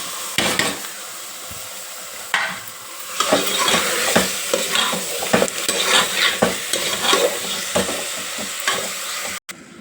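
Washed mutton pieces frying in oil in a pan with onions, green chillies and turmeric, a steady sizzle broken by repeated scraping and clanking as a spoon stirs the meat, close and fairly loud.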